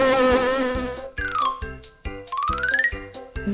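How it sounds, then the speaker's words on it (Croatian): A bee's buzz rises and falls in a few short, close, insistent bursts. It is set over a bright, playful tune with gliding tones in a children's animal guessing game. "To je pčela."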